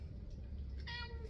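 A cat gives a single short, rising meow, faint against a low background hum, near the end of a brief quiet stretch.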